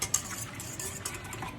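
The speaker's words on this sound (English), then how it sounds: "I'm gonna grab my whisk. And we're just gonna whisk it up." A whisk stirs yeast, milk and sugar in a stand mixer bowl, giving a soft continuous scraping and swishing with faint metallic ticks against the bowl, quiet and steady.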